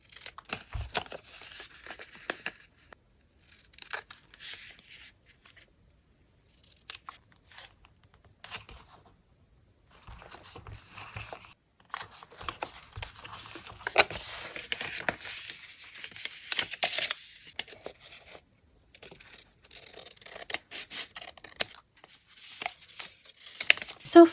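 Paper folded and cut by hand to make envelopes, giving intermittent bursts of crinkling, creasing and snipping, close and quiet, separated by short pauses.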